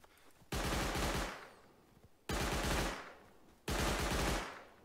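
Three long, loud bursts of automatic gunfire in the survival game Rust, each a dense rapid-fire volley lasting over a second, separated by short quiet gaps with no talk.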